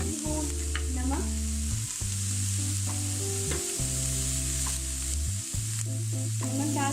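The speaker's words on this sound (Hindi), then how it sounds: "अब मैं गोभी डालने लगी हूँ। हम थोड़ी देर के लिए सिर्फ फ्राई करेंगे" Cabbage fries in a pan for spring roll filling with a constant bright sizzle, while low steady humming tones run underneath throughout.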